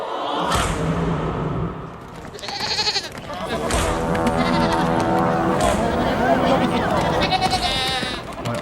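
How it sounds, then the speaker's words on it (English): A herd of goats bleating, with several loud, wavering cries overlapping close by against a busy background that may include voices. "that looks very much to me like a herd of goats"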